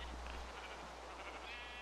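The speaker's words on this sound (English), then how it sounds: "I'll go get a sheep." Sheep bleating in the Minecraft video game, a few short, faint game bleats over a steady low hum of background noise, with no talking.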